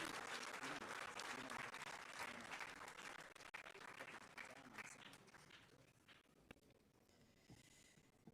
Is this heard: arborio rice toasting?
no